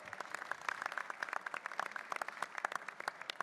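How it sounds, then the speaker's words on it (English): Scattered applause rises from a conference audience for a panel, individual claps distinct and irregular rather than a dense roar, fairly close and moderate in level, with no talking over it. "Please, everybody, a round of applause for panelists."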